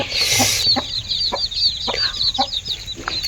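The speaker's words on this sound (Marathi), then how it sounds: "पंचवीस पिल्ले आहेत कोंबडीची" Soft repeated clucking of a hen close by, with faint high peeping of her brood of about twenty-five chicks continuing in the background.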